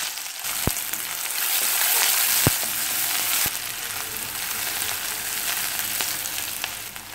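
Onions fry with cinnamon and fennel in sesame oil for a potato kurma, making a steady close sizzle with a few sharp clicks and taps throughout.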